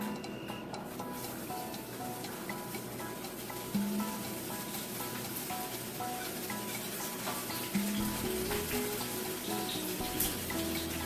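Mushrooms hit hot oil in a pan for sautéing, giving a steady broadband sizzle with faint stirring, close and continuous throughout, with two brief tonal clinks partway through.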